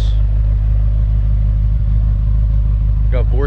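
A BMW M6 Gran Coupe with Dinan exhausts and a Vorsteiner body kit rumbles loudly and steadily at close range, a deep continuous engine drone, with a brief voice near the end.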